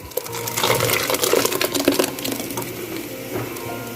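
Ground raw spinach paste poured into fried masala in a pan, a short wet splashing and sizzling wash with soft clatter near the start that then settles into steady cooking noise, close up and with no talk.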